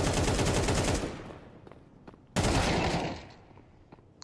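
Counter-Strike 2 gunfire in a professional esports match, two loud rapid bursts of automatic fire with a short pause between them, each ending in a decaying tail.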